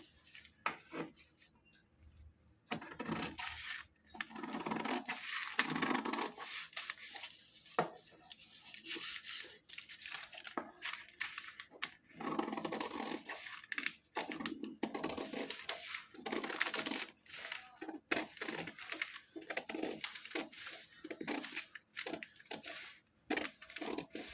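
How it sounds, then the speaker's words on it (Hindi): Scissors cutting a curved, heart-shaped piece of fabric for a small dress for a Kanha ji idol: repeated close crisp snips and rubbing of blades through cloth in short bursts, with brief pauses between them and no talking. "इस तरह से इसकी कटिंग कर लेना है।"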